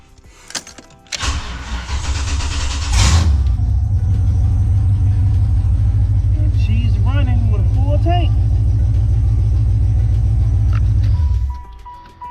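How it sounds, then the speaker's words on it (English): A 1994-96 Chevrolet Caprice turns over briefly, fires and settles into a steady, loud idle rumble close by, running evenly for several seconds before cutting off. "Let's start her up one more time."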